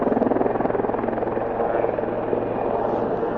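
A steady rotor drone with a pulsing low chop, loud and continuous throughout, like a helicopter flying fairly close overhead at a small waterfront heliport in Vancouver.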